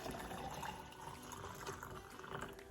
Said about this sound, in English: I'm gonna take the hot water and I'm gonna pour it into the Yeti